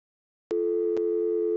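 Telephone busy signal in the Gabriel Knight: Sins of the Fathers video game: a single steady electronic tone starting abruptly after half a second of silence, with short clicks marking regular intervals, loud and clean.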